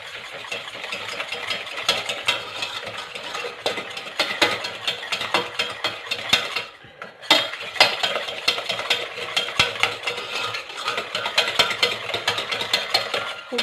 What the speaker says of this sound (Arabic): ونخلطو مزيان هاد الخليط بشويه هكا